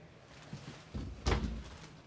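A wardrobe door in the bedroom of a 2020 Grand Design Imagine 2850MK travel trailer opens or closes with a soft bump, then a sharper thud, quiet and close.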